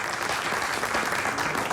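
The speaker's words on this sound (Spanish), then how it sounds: "Un aplauso para ellos" Dense, steady applause from a debate audience, a broad wash of many hands clapping together without pause, fairly loud and close throughout.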